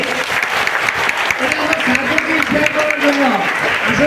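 Audience clapping for a first-prize winner at a school gathering: a continuous wash of hand claps throughout, with a voice talking over it.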